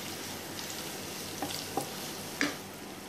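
Carrots stir-fry in a pan for Hakka noodles, a steady soft sizzle broken by a few brief scraping stirs near the end.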